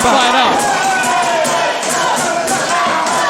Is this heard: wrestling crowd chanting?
yes